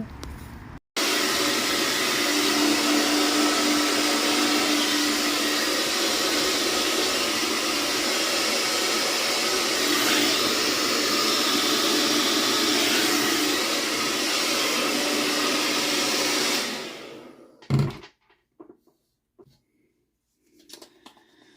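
A hair dryer blows steadily and loudly on afro hair for about sixteen seconds, then cuts off abruptly, leaving faint shuffling and handling noises.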